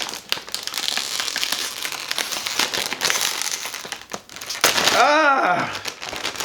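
A bag of Doritos Flamin' Hot Limon chips being torn open, a long stretch of loud crinkling and rustling foil plastic building to a sharp rip near the end.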